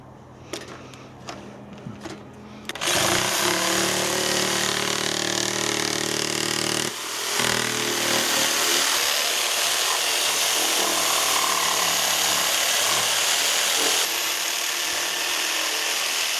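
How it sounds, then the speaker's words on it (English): A jigsaw cutting a rectangular opening in timber feather edge cladding: a few light knocks, then a loud, close, steady buzzing cut that pauses briefly and resumes for a long continuous run. "I'm actually going to do a rectangular cutout using a jigsaw"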